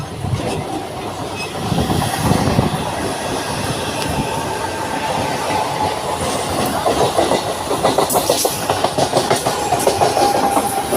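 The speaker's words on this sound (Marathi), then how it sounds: "बघू शकता इकडे मी ट्रेनमध्ये बसलो" A fast Mumbai local commuter train heading to Kurla rumbles steadily, heard from inside, with rhythmic clickety-clack of wheels on rails and occasional metallic squeals, loud and continuous throughout.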